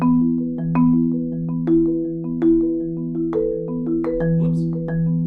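A marimba plays a steady accented four-note permutation exercise, each accent pattern repeated twice in a row, with resonant mallet strikes rising and falling in a continuous, even rhythm, close and alone without talk.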